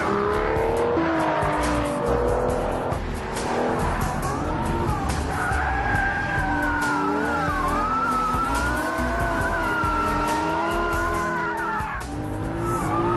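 A car driven hard on a race track with adaptive suspension set to track mode, its engine note rising and falling loudly and continuously alongside squealing, skidding tires through corners.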